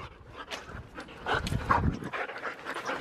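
Puppy panting with quick breathy rhythm, close and moderately loud, with small whimpers and rustling.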